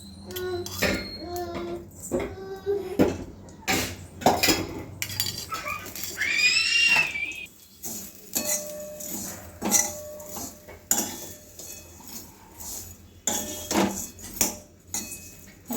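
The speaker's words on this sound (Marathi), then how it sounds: "त्याला मी 2 मिनिटं चमच्याने हलवून भाजून घेणार आहे व्यवस्थित, जरा लालसर होईपर्यंत तूप घालून।" A spoon stirs vermicelli as it roasts in ghee in a pan, giving close, irregular metallic clinks and scrapes. Brief faint whistling and other background noises come through between the strokes.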